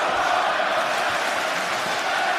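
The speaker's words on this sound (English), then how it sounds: "Crowd loving this environment" A wrestling arena crowd cheers at an AEW championship-versus-career match, a dense, loud, sustained roar with no breaks.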